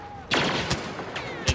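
Gunfire in the video game Star Wars Battlefront comes as a few sharp blasts with a noisy wash of game sound between them, loud and close, over roughly a second and a half.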